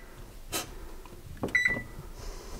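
An oven's control panel beeps as its buttons are pressed while setting up to bake a banana cake, giving a brief double electronic beep amid soft handling clicks, close by and with no talking.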